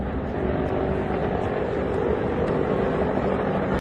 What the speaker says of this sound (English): Combat footage showed Marine Corps Viper and what appeared to be Army and Apaches striking ground targets